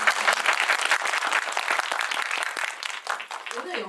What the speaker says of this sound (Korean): 박수 한번 일단 네, 부탁드릴게요.